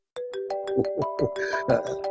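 A phone ringtone plays as a repeating electronic melody of bright tonal notes, steady and fairly loud, with voices talking over it in a domestic scene from a television drama.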